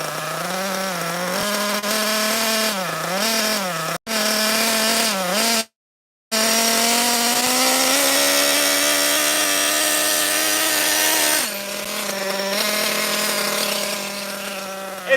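A Kyosho FOXX nitro RC car engine idles loud and close, a steady high-pitched buzz that wavers in pitch. It cuts out briefly twice, then runs on steadily with no talk over it.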